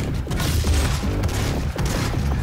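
Grenade launcher firing in DOOM 2016 SnapMap, with dense, continuous explosive bursts and booms packed close together throughout, loud and without pause amid other combat sounds.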